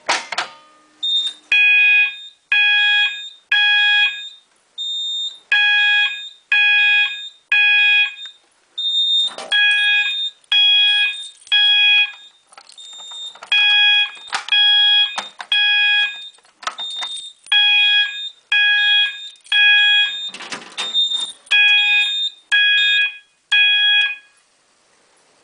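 A System Sensor fire alarm sounds code 3 at 800 hertz, loud, steady beeping tones falling into repeated groups of three with short gaps between the groups, continuing over a long stretch with no talking.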